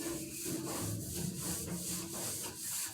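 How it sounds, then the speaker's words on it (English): A wet rag is rubbed over the surface of a machine in continuous scrubbing strokes, a close, fairly loud swishing rub that rises and falls with each pass, with no talking. "you just want to wipe every square inch of the machine"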